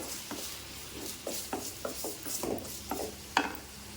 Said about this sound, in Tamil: தக்காளி வெங்காயம் பூண்டு கருவேப்பிலை இதெல்லாமே நல்லா வதங்கிடுச்சு